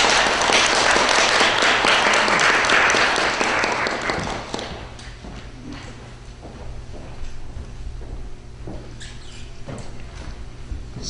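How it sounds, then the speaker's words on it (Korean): An audience applauds to welcome an author at a Korean book press meeting, loud clapping for about four seconds that then fades into scattered claps, shuffling and room noise. "우리 저자분 나오실 때 큰 박수로 환영 부탁드리겠습니다."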